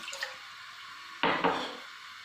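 Water from a cup pours into a karahi, a short splashing rush of under a second after a few light clinks, close and alone without speech.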